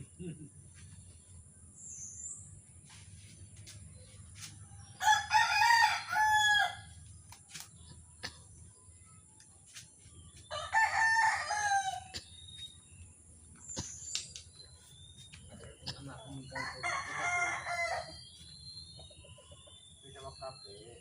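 Roosters crow in several loud bursts amid soft clucking and a steady insect chirr, with a voice briefly heard in the background.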